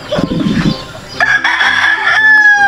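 A rooster crows close by, a loud drawn-out call that rises and holds, preceded by some brief clucking.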